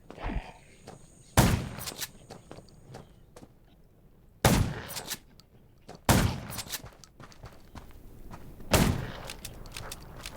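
Four loud, sharp gunshots in the video game Undawn, spaced a couple of seconds apart, each with a ringing tail, over a dim ambient background with faint scattered clicks.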